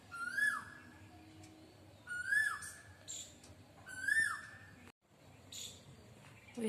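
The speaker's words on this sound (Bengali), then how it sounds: "মাঘ মাসে কোকিল ডাকছে, ওই দেখো।" Asian koel calling from a mango tree in winter, three evenly spaced rising whistled calls at moderate distance, fairly faint, with light background bird chatter between them.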